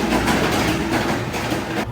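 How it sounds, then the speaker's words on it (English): A roller coaster train at Carowinds amusement park rumbles loud and close with a dense, rushing roar and rhythmic rattling pulses, easing briefly near the end. "We're gonna have this whole train to ourselves."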